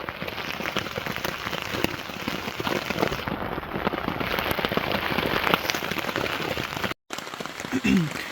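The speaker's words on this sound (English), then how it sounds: "so it started raining" Steady heavy rain patters densely on an ultralight camping shelter nearby, a constant hissing wash of drops that runs throughout with a brief dropout near the end.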